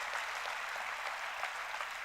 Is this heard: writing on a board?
no